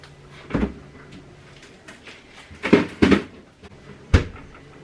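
A leaking bag of ice shoved into a home freezer, with rustling and a few solid knocks, then the freezer door thumping shut near the end; no talking.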